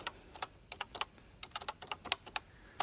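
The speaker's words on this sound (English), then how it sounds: "I position the cursor where I want to start typing, and just hit one of the keys on the mouse like that, and I can type Home Publishing" Someone types on a computer keyboard in a home-computing setup. The keystrokes are quiet, come in short irregular bursts and stay close, with no talking.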